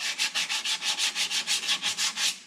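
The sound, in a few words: sanding brake shoes with 80 grit sandpaper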